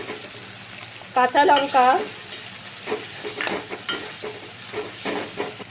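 Ginger paste, green chili and spices fry in a pan while being stirred: a steady sizzle runs throughout with scraping and clinking stirring strokes, a short spoken phrase partway through.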